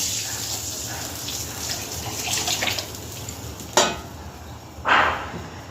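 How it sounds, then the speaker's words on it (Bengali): Spices fry in hot oil to temper dal in a home kitchen, a steady close hiss of sizzling with two louder bursts of spitting toward the end. "এবার ডালটা বাজার দিয়ে নেবো"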